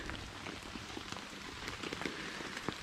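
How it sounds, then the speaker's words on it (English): Rain falls steadily on a solo tent pitched under a tarp at a bicycle wild camping spot. The patter is dense and close, and sharper individual drops tap now and then. "it's raining"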